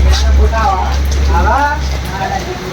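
Steady outdoor rain makes a continuous, even hiss throughout, with people talking over it.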